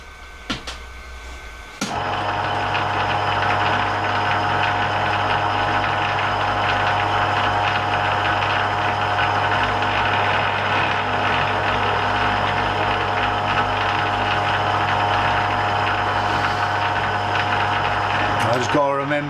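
Metal lathe starting up and running steadily while cutting a worm gear thread for a bandsaw repair, a loud, even mechanical whir and hum that holds after a sharp start-up and continues throughout.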